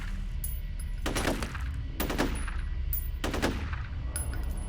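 Gunfire from the shooter game F.E.A.R.: three loud, close bursts of rapid shots at roughly one-second intervals, each with a sharp crack and ringing tail, over a steady low game rumble.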